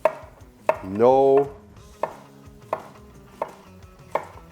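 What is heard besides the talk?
Ninja NeverDull knife slicing cucumber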